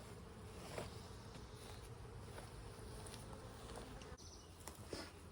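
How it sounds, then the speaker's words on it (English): Steady buzzing from many honey bees around an open hive fills the clip, a dense continuous drone with occasional louder passes close by, no talking. "they're getting too much upset"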